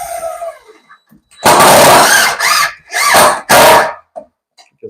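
A power drill drives a screw into a bifold door track in short, loud whirring bursts, three or four pulses with brief pauses between, after a few quiet knocks.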